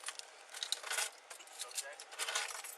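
Several sets of car keys jangle and clink in a hand, a busy metallic rattle that runs close and continuous throughout.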